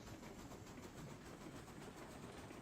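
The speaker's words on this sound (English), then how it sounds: "Man, this train is so quiet." A train rolls along the track in Railroads Online, a steady, faint rumble and hiss with light rhythmic clatter from the wheels and no voices.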